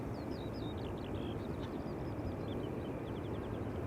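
A KLM Boeing 787-10 Dreamliner heading out from Schiphol's Polderbaan, heard as a steady, broad jet roar that holds level throughout, with birds chirping faintly over it.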